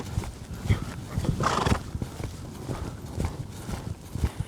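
A horse lopes during a gait and speed-control training session, its hooves clip-clopping in a steady rhythm close by, with a brief neigh partway through.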